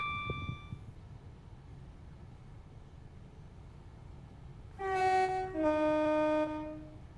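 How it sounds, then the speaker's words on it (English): Two long, loud blasts of a train horn in Train Sim World 5, on the Ramsgate to London Victoria route, the second slightly lower in pitch, sound after a stretch of low rumbling engine noise. "Blow the horn past the whistle board."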